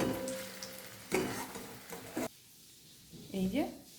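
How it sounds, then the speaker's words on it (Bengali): Vegetable chops fry in oil over low heat, a close crackling sizzle with stirring bursts, interrupted by short pauses, with a voice speaking briefly near the end. "আঁচটা কম করা আছে, এর মধ্যে ছেড়ে দেব। এই যে এইরকম ভাজা ভাজা হলে"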